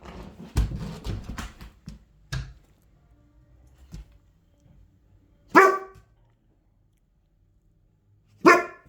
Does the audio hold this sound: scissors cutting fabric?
no